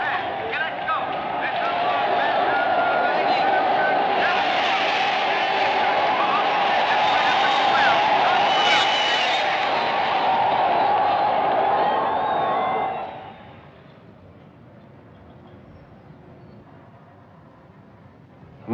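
Crowd noise fills the space loud and continuous for about thirteen seconds, a dense steady wash of many voices, then drops away abruptly to a much quieter room tone.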